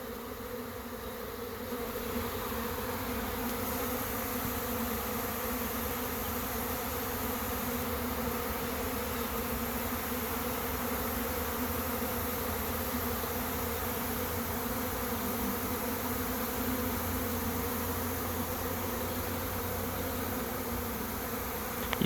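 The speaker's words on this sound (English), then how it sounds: "You can definitely see the lines of bees running down into the swarm trap here, down into the entrance." A honey bee swarm pours into the entrance of a swarm trap, a dense, steady buzzing hum of countless wings sustained close and loud throughout, with no voices.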